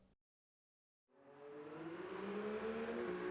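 A 1971 Ferrari Dino 246 GT at Suzuka in Gran Turismo 7 starts after a second of silence. Its engine swells and climbs steadily in pitch as it accelerates, getting louder toward the end.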